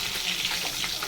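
Amudi fish fries in hot oil with a steady, dense sizzle that stays loud and close the whole time.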